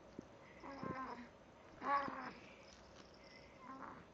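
A pet cat meows three times indoors, short drawn-out cries spaced about a second apart, fairly close and clear against a quiet room.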